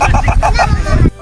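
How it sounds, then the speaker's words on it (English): A chicken gives a quick run of loud, close, rhythmic clucking calls, about six pulses in a second, which then stop abruptly into near silence. "This is a cross-eyed cooing chicken."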